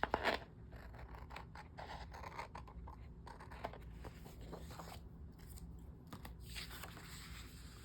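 Scissors snip through paper and sticker sheets during monthly planner decorating, producing a quiet run of close, crisp cuts and light rustling at low volume.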